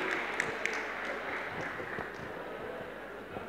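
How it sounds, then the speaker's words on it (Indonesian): An indoor audience applauds during an anti-narcotics talk show in Banyuwangi, a dense, steady patter of many clapping hands held at moderate volume for several seconds. "Tepuk tangan buat beliau."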